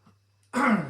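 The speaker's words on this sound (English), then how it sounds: "excuse my cough" A single rough throat-clearing cough bursts out after a quiet moment, close and fairly loud.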